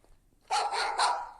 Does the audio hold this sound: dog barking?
yes